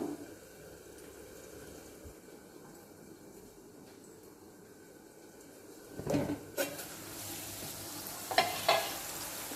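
Onions frying in a pan for a mutton and cucumber curry, a steady low sizzle that swells with a few louder stirring bursts and clatters near the end.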